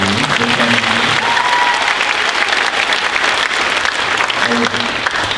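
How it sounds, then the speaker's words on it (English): Audience at a middle school spring concert claps steadily and loudly throughout, with a voice speaking over the applause. "Have another round of applause"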